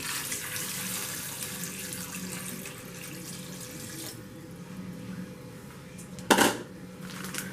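Water runs steadily from a tap into a pot, 3.5 cups for shrimp etouffee, a continuous hissing splash that cuts off partway, followed by a brief clatter.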